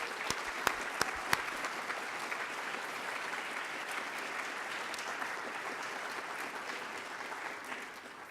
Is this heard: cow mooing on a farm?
no